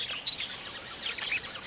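Young pet birds, five months old, give short high chirps and tweets, a couple of sharp calls standing out over a soft, steady chatter nearby.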